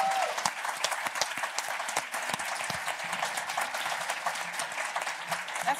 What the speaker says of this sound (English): Please join me with a big round of applause in welcoming Ms. Lynette